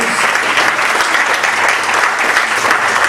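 Dense, steady applause from a large church congregation, loud and continuous throughout.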